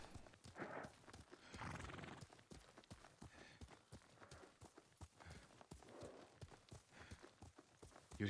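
A horse in the samurai video game Ghost of Tsushima clip-clops steadily and whinnies twice, the hoofbeats close and rhythmic, with no talking over them.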